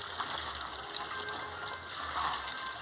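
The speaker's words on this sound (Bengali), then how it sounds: "দেখেছেন ধুতে ধুতে সাদা জলগুলো বেরিয়ে যাচ্ছে" Water gushes steadily while pieces of banana stem are rinsed in a kitchen before frying, a continuous close splashing flow with no voices.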